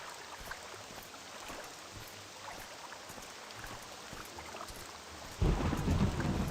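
Steady rain patters in the game Morrowind, with low thunder rumbling underneath and a louder burst of rain and rumble near the end.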